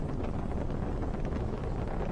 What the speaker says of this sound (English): Watching the 9 Merlin engines of the Falcon 9 first stage